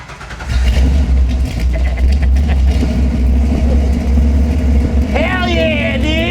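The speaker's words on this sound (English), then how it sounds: "Let's start this car" A Ford Falcon engine fires up and revs hard, a loud close-up roar rising and falling in bursts before an excited voice shouts over the running engine near the end.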